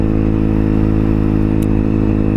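A motorcycle engine drones steadily and loud throughout while riding, a constant close hum with faint rattling and no speech.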